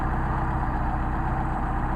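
Mercedes 190SL engine idling on Solex carburettors, a steady close-up rhythmic idle thrum with fast even firing pulses and no voices.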